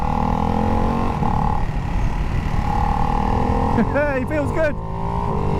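A Ducati Hypermotard 698 single-cylinder motorcycle engine drones loudly and steadily while riding, with wind buffeting, a brief rise in revs near the end, and someone speaking over it.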